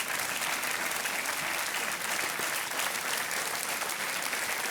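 Studio audience on a Hindi quiz show bursts into sustained, dense applause, steady and loud throughout with no talk over it.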